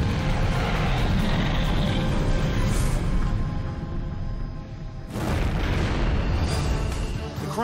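Catastrophic explosion and fire at a fuel tank filling site, set off by a faulty coupling on a hose to an underground tank: a sustained loud roaring rumble with a fresh burst of blast noise partway through.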